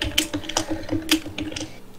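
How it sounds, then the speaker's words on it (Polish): Rapid typing on a computer keyboard during a gaming session, a dense run of quick, sharp key taps at close range, loud and steady, with no talk over it. "napierdalasz w klawiaturę, nie, napierdalasz ładnie"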